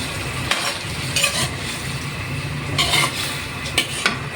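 Sardines and cabbage sauté in a pan, a low continuous sizzle with occasional stirring scrapes and knocks, no talking.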